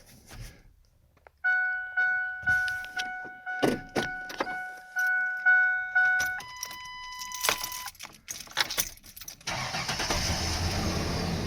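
A car's ignition chimes while keys jangle, then the engine cranks in a rapid series of labored churns before catching and settling into a steady idle.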